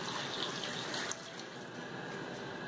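A glass of water pours in a steady splashing stream into a blender jar holding orange and pumpkin, fairly close, then the flow softens and continues more quietly.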